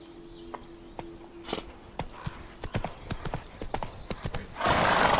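Horse hooves clip-clop in an irregular, quickening rhythm in the video game The Witcher 3: Wild Hunt, ending in a burst of rushing noise.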